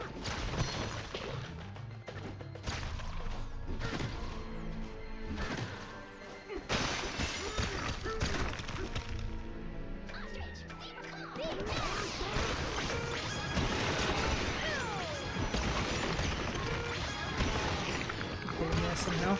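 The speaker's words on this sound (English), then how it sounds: "we need to continue smashing crystals" Donkey Kong smashes through crystals in Donkey Kong Bananza, repeated loud shattering crashes and heavy whacks tumbling one after another in dense bursts, with game music and a voice chattering over the action.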